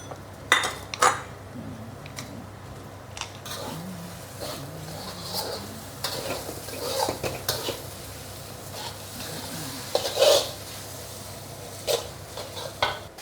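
Metal spatula scraping and clanking in a wok as mee goreng noodles are stir-fried over high heat, with irregular sharp clinks and a faint sizzle underneath, no talking.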